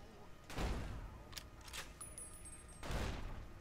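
Explosive rounds fired from a sniper rifle in Fallout: New Vegas, two heavy booming blasts a couple of seconds apart with rumbling tails, a few faint thumps between them.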